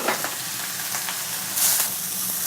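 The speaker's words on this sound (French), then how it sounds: "j'ai déjà bien chauffé l'huile, hein, parce qu'il faut que ça soit bien chaud. Là, pardon, on va mettre les échalotes et les oignons." Shallots and onions frying in well-heated oil, a steady close hiss with a few faint clicks and a brief louder crackle burst near the end, no voices.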